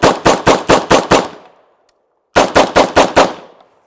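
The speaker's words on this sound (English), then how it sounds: "I'm shooting 124 grain Federal HST because that's what I'm going to keep loaded in this" Two rapid bursts of 9mm fire from a Wilson Combat AR9G short-barreled rifle loaded with 124 grain Federal HST, about six sharp, loud shots each, separated by a brief silence.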